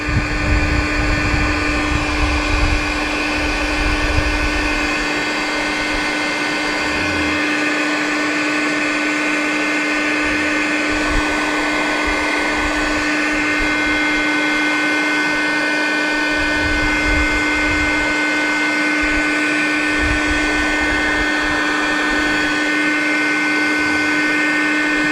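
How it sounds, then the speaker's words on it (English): A heat gun blowing steadily while baking powder paint onto fishing jigheads, a loud continuous fan-and-heater whir with a fixed hum, close and unbroken throughout, no voices. "what I do is just hit it with the heat gun. And this just bakes it on for you"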